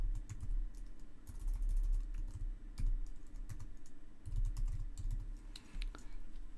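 Typing on a computer keyboard, with quiet irregular key clicks in bursts and short pauses, close to the microphone and with no talking.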